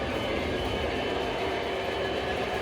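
A model triplex locomotive runs steadily along its track, a continuous rolling rumble with faint clicking from the wheels and no speech.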